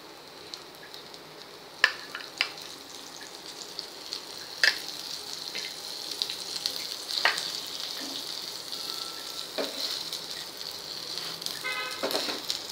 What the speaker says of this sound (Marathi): बटर लावायचे दाबेलीला आणि छान अशी 1 मिनिटभर दोन्ही साईडने गरम करून घ्यायचा आहे पाव